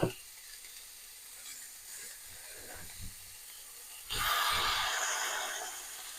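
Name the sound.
veal frying in a really hot pan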